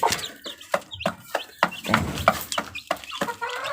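Two-day-old chicks peep and cluck in quick, repeated calls, close and fairly loud, a busy rhythmic run of short chirps with brief gaps and no talking.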